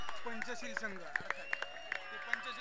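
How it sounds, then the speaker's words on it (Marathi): At a prize ceremony for a Pune half-pitch tournament, scattered sharp hand claps ring out irregularly beneath someone talking over the crowd. "जोरदार टाळ्या"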